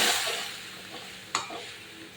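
Ridge gourd and tilapia fish cooking in a pan, a soft steady sizzle with a single sharp scrape of a spoon against the pan partway through, close and quiet with no talking.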